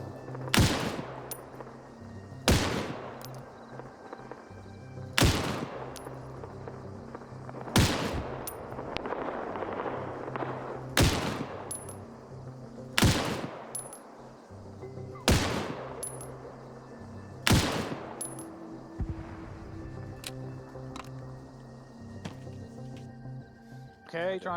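Loud, sharp gunshots ring out in a military video game, about eight evenly spaced bursts over a steady background rumble, with occasional speech underneath.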